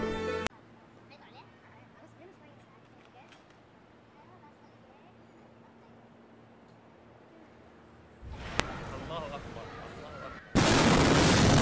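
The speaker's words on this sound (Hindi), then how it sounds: "अचानक एक जोरदार धमाका हो जाता है" An explosion in Beirut recorded on a CCTV camera: a long stretch of low ambient hum, then a sudden loud broadband roar about eight seconds in, followed by an even louder blast near the end.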